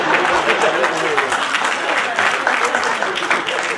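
Audience at a Hindi comedy poetry gathering claps in a dense, sustained burst of applause, loud and steady across the whole stretch.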